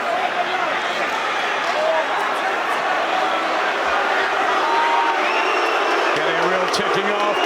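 Boxing arena crowd at Chris Eubank Jr v Liam Williams, a steady roar of cheering and rallying throughout, with a commentator talking over it.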